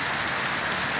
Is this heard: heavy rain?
yes